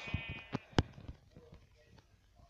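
Sheep bleats from the video game Minecraft, a few short game-sound calls with a sharp loud one near the middle, over a quiet background.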